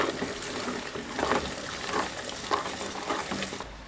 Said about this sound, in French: on ajoute les amandes et les noisettes. 500 g. J'ai mis à peu près moitié-moitié et on mélange à la spatule